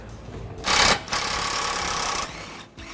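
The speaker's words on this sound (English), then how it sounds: "We are using a impact with the 18mm wrench socket to tighten it back down." An impact wrench with an 18mm socket tightens the front hitch bolts on a 2013 Ram 1500, firing a short loud burst and then a longer sustained rattle close by.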